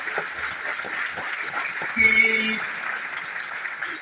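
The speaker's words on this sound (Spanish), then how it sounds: "Vamos a darle un aplauso a este equipo de 2 mexicanos" Audience applause for a two-man Mexican mountaineering team, one of them blind, steady clapping across the whole stretch with a voice speaking over it and a brief louder swell midway.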